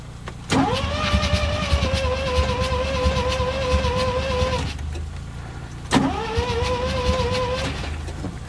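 A Mazda RX-7 rotary engine, flooded and with a faulty front rotor, cranks on its starter to clear the flooding. It runs in two long, loud, steady whirring bursts separated by a short pause, with no voices.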